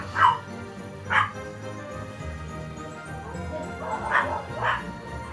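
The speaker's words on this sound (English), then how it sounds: "Dog barking." A dog barks in four separate woofs spread over several seconds, fairly close and moderately loud, against low room noise at a rest home with faint background sounds.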